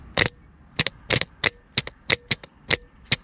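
A burnt-out truck starter motor clacks as it engages without turning, giving about a dozen sharp, close, dry clicks at an irregular rhythm with quiet gaps between them.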